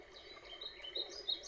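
Faint forest ambience sound effect with high bird chirps and tweets scattered over a soft hiss of insects, quiet and distant.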